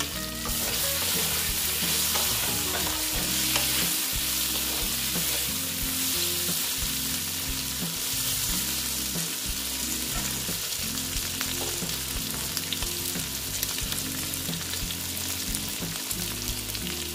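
Halved and whole potatoes fry in hot oil with a loud, continuous sizzle. Stirring scrapes and clatters through it at an uneven rhythm, and no one speaks.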